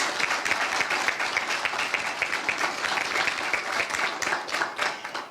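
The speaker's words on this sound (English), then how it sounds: "So please give our last week events a round of applause" A crowd claps steadily at a Transgender Day of Remembrance 2023 gathering: dense, even applause fills the whole stretch at a fairly loud level, with no voices standing out.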